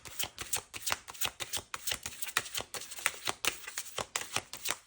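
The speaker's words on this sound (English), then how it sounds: "I'm going to shuffle these a little differently because they're big." Large tarot cards being shuffled in quick, rhythmic riffling bursts, crisp papery flutters repeating steadily throughout, close and fairly quiet with no talking.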